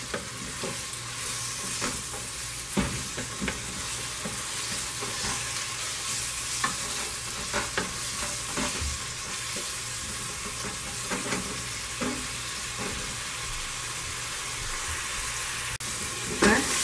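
Ginger garlic paste sizzles and is stirred in a pan for mutton biryani, a steady frying hiss broken by repeated scraping strokes of the spatula, close and continuous.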